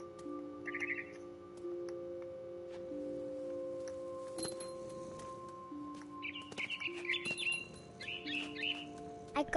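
Bird chirps and short tweeting calls from the video game What Remains of Edith Finch, scattered bursts over a steady tonal game ambience, growing busier toward the end.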